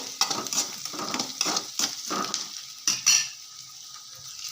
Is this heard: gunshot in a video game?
no